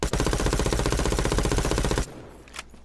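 A gun in a mobile first-person shooter game fires a rapid automatic burst for about two seconds, loud and close, then cuts off into quiet game ambience.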